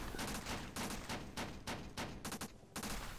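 Guns blaze at zombies in the flash game SAS: Zombie Assault, dense rapid bursts of gunfire hammering almost without pause, loud and close, with a few brief gaps between volleys.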